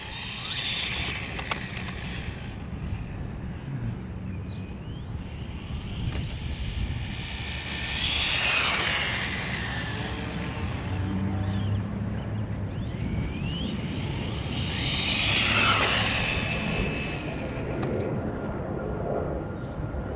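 A Losi NASCAR RC car converted to a brushless motor and running on 2S drives smoothly, its high electric whine swelling twice as it passes near and fading between passes, faint overall with no talk.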